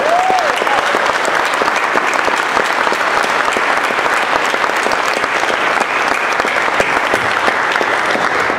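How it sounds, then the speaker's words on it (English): A large audience applauds at a corporate market event, dense, loud and continuous clapping that holds steady for the whole stretch, with no voices over it. "Let's give them a round of applause."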